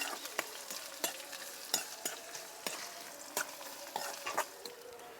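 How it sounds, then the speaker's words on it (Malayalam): Shallots, chillies and curry leaves frying in oil for a Kerala-style moru curry crackle softly and steadily, broken by a series of sharp spoon clicks and scrapes as they are stirred, with no talking. "ഈ ഉള്ളി നന്നായിട്ട് ബ്രൗൺ കളറായി വരട്ടെ"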